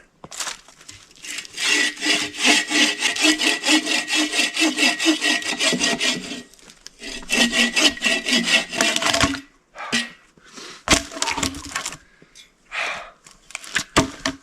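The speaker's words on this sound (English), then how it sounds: "it's a lot of sawing" Steady back-and-forth strokes of a hand saw cutting wood, close and loud, in two long runs of rhythmic rasping followed by a few scattered scrapes.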